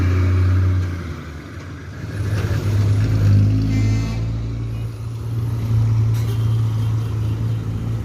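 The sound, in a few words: bus arriving at the bus terminal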